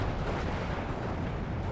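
Artillery battery fire in Steel Division 2, a dense low rumbling barrage of booms rolling together at moderate level with no clear gaps between blasts.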